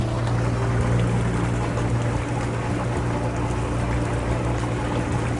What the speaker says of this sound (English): See the swirling action of the water.